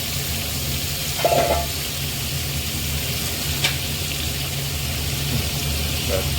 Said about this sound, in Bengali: একটু নুন মিশিয়ে এগুলো ফুল ফ্লেমে 10 মিনিট ভেজে নেবো, লাল লাল করে নেবো।